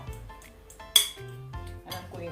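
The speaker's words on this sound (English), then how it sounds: "just crush these with a fork, like so" A fork crushes baked potatoes in a dish for twice-baked loaded potatoes, giving a few sharp metallic clinks and soft scraping taps at close range, with no talking.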